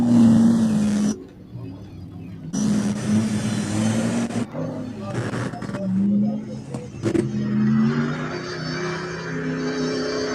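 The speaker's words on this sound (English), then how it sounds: "Jim Marsden coming up to the finish, about 35 minutes into his first lap, blistering lap time" A rally car engine revs hard toward the finish, surging and cutting in bursts at close range, with gaps where the roar drops away briefly.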